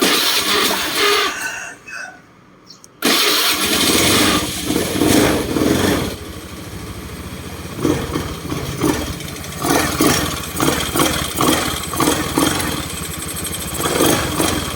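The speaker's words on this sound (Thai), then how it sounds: "เดี๋ยวเรามาสตาร์ทเครื่อง" Honda Scoopy-i scooter after replacement of its sub wiring harness, its engine cranking after a brief gap, then catching and running with a light, high-pitched idle and revving, loud and close.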